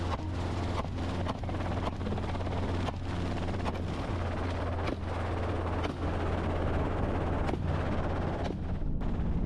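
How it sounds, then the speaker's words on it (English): A loud bang from a hunting gun fired at a large wild boar, with several sharp, booming reports standing out over continuous heavy rumble and wind-like noise. "Aiming for the critical weak spot, I fired a decisive shot. After a loud bang"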